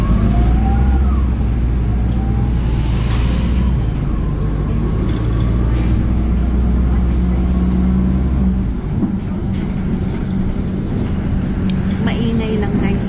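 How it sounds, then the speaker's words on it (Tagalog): A noisy bus passes on a street, a steady loud low rumble of engine and traffic filling the whole stretch and easing slightly near the end, with no talk over it. "Maingay lang guys yung ng tunog ng bus."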